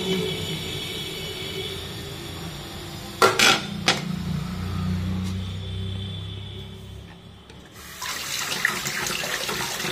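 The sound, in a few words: tap water rinsing paneer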